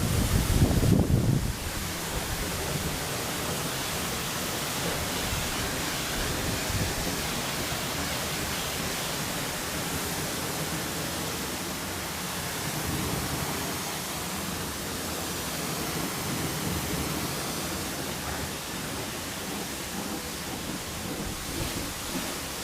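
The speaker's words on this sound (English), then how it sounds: "it makes sense to go with filtered water for the final rinse" Water rinsing a car during a wash, a steady broad hiss of spray that runs continuously and fairly loud, with a louder burst at the start and no talk.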